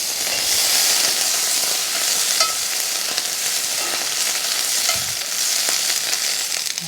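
Japanese A5 wagyu steak sizzles steadily in a hot pan, a loud continuous frying hiss with faint spatters, heard up close with no talking.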